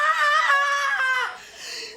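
A person lets out a long, high-pitched scream, loud and close, wavering in pitch for over a second before breaking off into a shorter, strained trailing cry.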